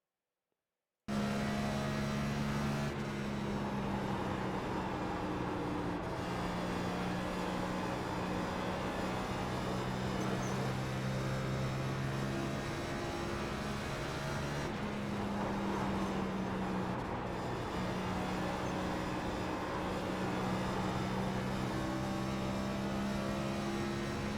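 Engine of a NASCAR Next Gen stock car on a fast hot lap around Dover in iRacing, a loud continuous drone whose pitch rises and falls through the corners and straights, steady throughout with no talking.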